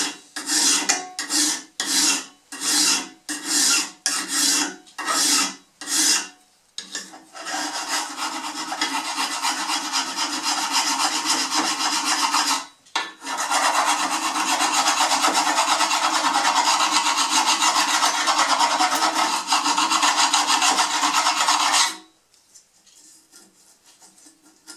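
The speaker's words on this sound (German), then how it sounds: "Als erstes feile ich mir diese Kante wieder schön gerade und vor allen Dingen muss sie rechtwinklig sein." A metal file rasps along the edge of a steel card scraper to true it straight and square, first in about ten distinct rhythmic strokes, then in long sustained back-and-forth filing, loud and close before stopping.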